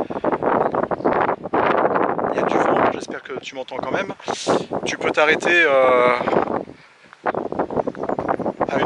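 Gusty wind buffets a microphone outdoors near Aubeterre-sur-Dronne, producing loud low rumbling bursts that come and go while someone speaks French over them.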